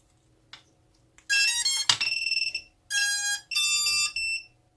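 A Vifly Finder 2 drone buzzer sounds in loud, shrill electronic beep bursts, several separated by brief gaps, close and alone after a faint click at the start.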